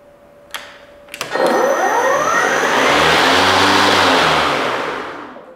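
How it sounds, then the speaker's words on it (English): An EGO cordless electric lawn mower starts with a couple of clicks, spins its blade up into a loud, steady whir, then winds down as it brakes to a stop near the end. "So I'm going to go ahead and engage it, and all you have to do is let go of the bail."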